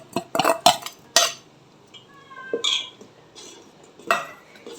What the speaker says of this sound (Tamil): ஃப்ரெண்ட்ஸ், வறுத்த சேமியாவை கலந்துடும்.